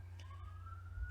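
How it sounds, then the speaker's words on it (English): A faint siren wails in the distance, its tone rising slowly over a low steady hum. "Sorry for the sirens you're hearing out there."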